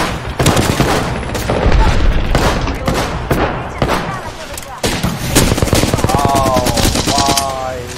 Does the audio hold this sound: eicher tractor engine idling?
no